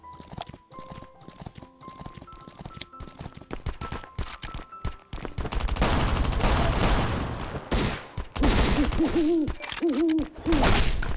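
Shotgun fire in the survival game Last Island of Survival, heard as several loud, booming blasts in quick succession over continuous game ambience.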